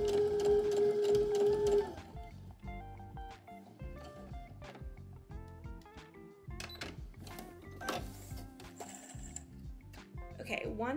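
A sewing machine sews darts on a wrap skirt. It whirs steadily for about two seconds, then gives way to clicks, clatter and quieter mechanical handling noises.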